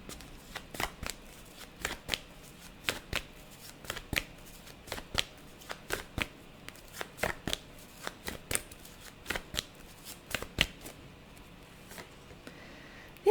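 Tarot cards being shuffled in a quiet room during a card reading, a long run of crisp riffling flicks and snaps repeating in an uneven rhythm, close and clear with no talking.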